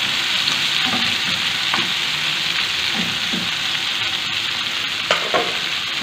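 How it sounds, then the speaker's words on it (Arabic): Onion and eggplant fry steadily in a pan, a dense continuous sizzle with a few soft stirring scrapes and clicks, close and alone with no voices. "هنايا البصل تاعي غيتقلى، نزيد ندير عليه الدنجال"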